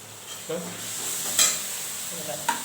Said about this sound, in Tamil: இப்போ இதை போட்டுக்கலாம் கடுகு உளுத்த பருப்பு கடலப்பருப்பு இதெல்லாம் போட்டுப்போம்